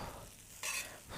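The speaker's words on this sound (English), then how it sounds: "Give that a little bit of a stir around." Spinach ricotta gnocchi with cheese on top, stirred around in a hot pan, a soft scraping swirl with a brief brighter sizzling swish partway through, close and fairly quiet, no voices.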